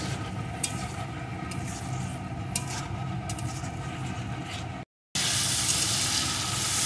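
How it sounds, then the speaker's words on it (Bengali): Spice masala cooking down with salt and a splash of water in a pan, tomatoes softening, gives a steady close sizzle and hiss with light bubbling, briefly cut off before resuming, no talk over it. "এখন মশলাটা আমি সুন্দর করে কষিয়ে নেব"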